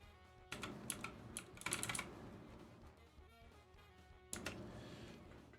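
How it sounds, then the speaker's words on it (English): Rapid clicking of typing on a computer keyboard, close and fairly quiet, in bursts with short pauses and a pickup after a brief lull. "I was typing Dami's ambush into Google"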